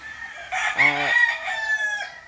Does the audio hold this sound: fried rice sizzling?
no